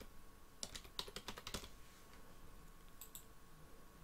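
Keys clatter on a computer keyboard in a quiet room, a quick irregular run of faint clicks followed by a couple of isolated taps.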